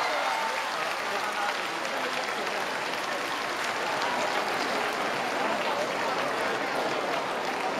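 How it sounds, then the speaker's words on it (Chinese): Steady, dense applause from a live audience at a badminton and table tennis exhibition featuring Olympic champions in Hong Kong, with cheering mixed in, sustained and even throughout with no pauses. "大家繼續拍手，大家繼續歡呼"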